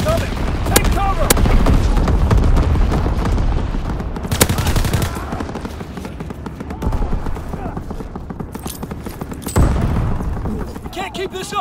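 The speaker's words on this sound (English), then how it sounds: "Enemy aircraft fire incoming." Call of Duty WWII battle with enemy aircraft fire, dense rapid machine-gun bursts and booming explosions rolling on continuously, with radio-style voices calling out over the din.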